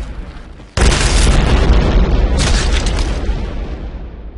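A mine blows up in the Happy Wheels video game with a sudden, very loud boom, and the rumbling blast then rolls on for several seconds and slowly fades.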